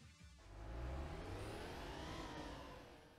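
Engine of a Porsche in the racing game Need for Speed Porsche Unleashed, a steady mid-pitched hum that swells and holds, rising gradually as if accelerating, moderately loud with no voices.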